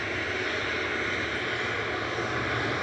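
A plane landing at Manchester Airport gives a steady, broad engine roar that stays loud and even throughout, with no clear voices over it.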